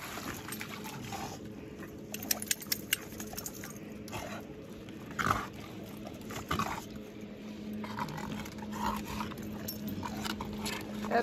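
American Bully dogs move about nearby with scattered whimpers and sniffing amid soft splashes and scuffling, the activity rising and falling irregularly.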